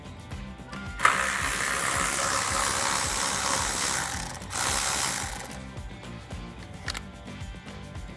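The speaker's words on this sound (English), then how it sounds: "Now we can remove this airbox screw right here using our 10 millimeter socket" A ratchet fitted with a 10 mm socket loosens an airbox screw on a Tacoma during a cold air intake install. It gives a loud, steady clicking rasp for several seconds, with a short pause partway through.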